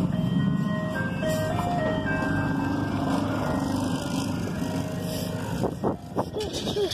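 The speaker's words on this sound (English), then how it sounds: "Look at this truck." A green truck rolling past with a continuous engine rumble and a faint melodic chime running over it, loud and near before easing off toward the end.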